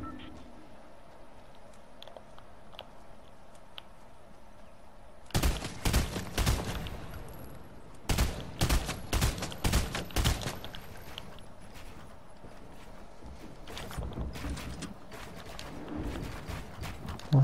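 Bursts of rapid gunfire crackle in the Fortnite video game, several loud volleys clustered in the middle, then scattered shots, over a quiet background with some faint voice.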